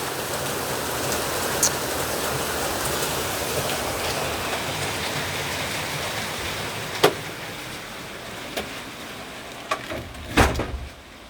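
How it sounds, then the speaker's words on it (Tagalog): Heavy rain pours down in a steady dense hiss, with a few sharp knocks and clatters near the end. "It's raining so hard."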